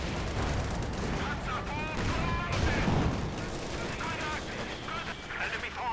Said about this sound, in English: Rocket grenade fired.